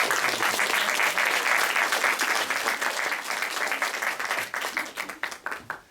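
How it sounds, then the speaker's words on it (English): A summer recital audience gives a big round of applause, a full, even wash of many clapping hands that gradually breaks up into scattered, separate claps as it dies away. "big round of applause for everybody"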